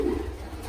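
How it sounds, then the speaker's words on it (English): Racing pigeons cooing inside a breeding loft, a soft low murmur that holds steady across the short moment, close by with no talk over it. "We just took a look at the birds in the breeding loft."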